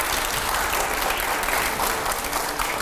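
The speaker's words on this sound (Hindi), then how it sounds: "जोरदार तालियां हो जाए जरा।" A studio audience at a TV quiz-style show breaks into loud, sustained clapping. Dense crowd applause fills the clip evenly, close and full, with no speech on top.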